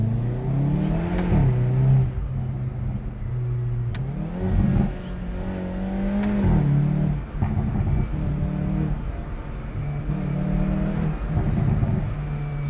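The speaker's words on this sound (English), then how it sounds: "Here's how it sounds with the windows rolled down." A Hyundai i30N is heard from inside with the windows rolled down, its engine droning and rising in pitch through repeated revs and gear changes, with steady wind rush underneath.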